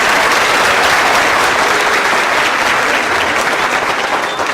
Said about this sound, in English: Can we give Mrs. Smykowski a big round of applause